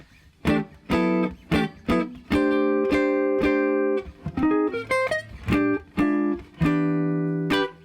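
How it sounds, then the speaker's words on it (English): An electric jazz guitar played through a Quilter amplifier plays chords and a quick run of single notes, full and clear, with short gaps between strums. "here's the sound of the Quilter."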